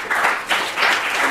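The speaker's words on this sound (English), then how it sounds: "So a round of applause to Keith." An audience at a F*ckup Nights talk briefly applauds the speaker, Keith. The burst of crowd clapping is dense and close, rising and falling in small swells.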